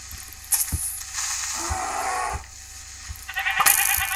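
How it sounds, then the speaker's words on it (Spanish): Sheep bleat in Minecraft, a few short bleats mixed with game effects, clicks and rattling mechanical noises, fairly close and loud with no talking. "Ovejas."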